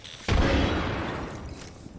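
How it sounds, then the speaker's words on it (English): A frag grenade explodes in the Apex Legends video game, one sudden heavy boom with a long rumbling decay that fades over about two seconds. "Throwing frags."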